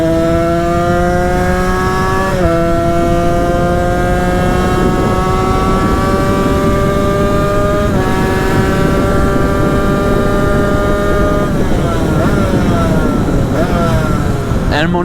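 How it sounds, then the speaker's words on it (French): A Derbi 70cc kit motorcycle on a road ride, its engine screaming at high revs in a loud, continuous whine that steps up through gears with brief dips and climbs, recorded close with heavy wind noise and some talk underneath. "Elle monte beaucoup trop vite dans les tours,"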